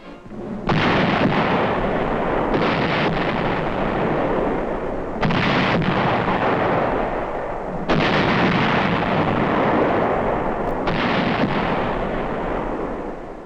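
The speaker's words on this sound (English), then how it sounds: "24th Division Artillery prepares to open fire on Hill 584" Artillery fire from the US 24th Division Artillery in Korea, shelling Hill 584: several heavy booming blasts at intervals of a few seconds, loud and sustained with rumbling tails, no voices.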